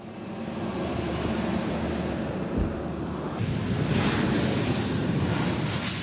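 A Brazilian Air Force Hercules transport plane lands at Chapecó airport in heavy rain, its engines a broad, continuous roar mixed with the rush of wind and downpour, growing fuller toward the end with no voices.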